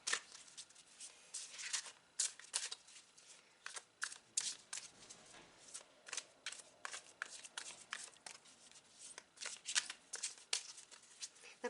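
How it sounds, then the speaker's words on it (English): Tarot cards are shuffled close up, in a rapid, continuous run of crisp riffling slaps and flicks that keeps going without pause and with no talking. "Way too many cards."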